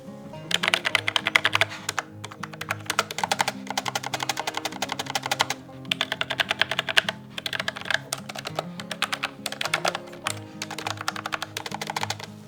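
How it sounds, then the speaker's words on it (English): Rapid typing on a Logitech MX keyboard with number pad, close up, in bursts of quick clicky keystrokes separated by brief pauses. "This is the Logitech MX Master with 10 key, and I will try to do a sound test."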